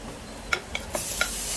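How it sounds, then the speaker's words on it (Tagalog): Garlic sizzles softly in a pan for beef adobo made with Sprite, while a utensil stirs it with several distinct clicking taps against the pan, close and fairly quiet. "magisa na tayo ng bawang. Halu-haluin lang."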